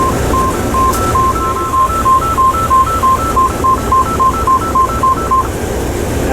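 An Amtrak locomotive cab alerter's two-pitch electronic warning tone alternates steadily for several seconds over a loud rumbling cab background.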